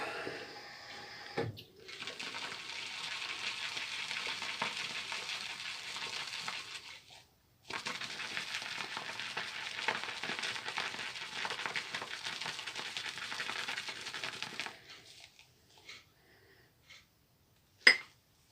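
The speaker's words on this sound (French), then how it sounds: "donc ça c'est un blaireau vraiment qui fait mousser très fort" A synthetic shaving brush whips soap into a thick lather with a steady wet, crackling swish, two long close bursts separated by a short pause, then a few soft taps at the end.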